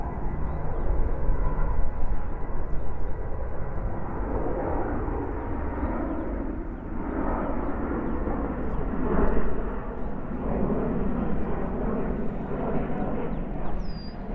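An airliner takes off at JFK airport and passes overhead, its deep, broad jet roar sustained and loud throughout, rising and falling slightly in intensity.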